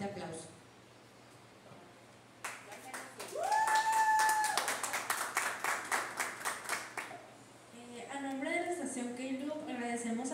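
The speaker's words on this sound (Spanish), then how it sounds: "a quienes les brindamos un fuerte aplauso." A small audience at a press conference gives young people a brief round of clapping, sharp close handclaps that build and then taper off, framed by someone speaking before and after.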